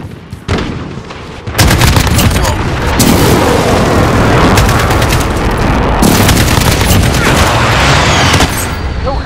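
Precision airstrike explosions in the video game Call of Duty, a dense, loud barrage of overlapping booms and blasts that rolls on almost without a break after a brief quieter opening.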